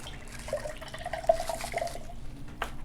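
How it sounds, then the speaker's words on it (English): Liquid poured into a cup for a drink gives a soft, steady trickle with a few drip-like plinks, close and fairly quiet, with no talking. "I'm going to pour up my drink first."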